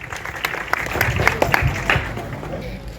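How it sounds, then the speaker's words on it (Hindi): A crowd at an outdoor election rally in Haryana claps in scattered bursts that swell briefly and then fade, mixed with voices and general crowd noise. "भाई जोरदार तालियां"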